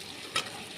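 Lightly fried potatoes sizzle in a pan as soaked chickpeas go in, giving a brief, sharp hiss over a steady frying crackle.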